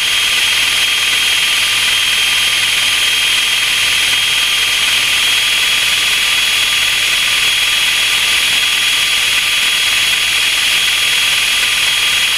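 Steady drone of a light aircraft engine on its landing approach to runway 23 at Sandown, loud and continuous with a constant high whine, with no talk over it.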